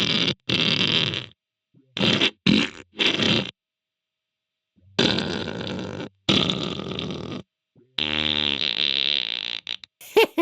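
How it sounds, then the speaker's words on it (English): Electric guitar played through a fart pedal with the blend set to effect only, giving a run of loud, buzzy, flatulent bursts in short separate blasts, then longer sustained stretches ending in a warbling, wobbling tone. "I'm going to give you the fart pedal just by itself."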